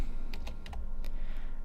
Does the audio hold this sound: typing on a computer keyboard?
yes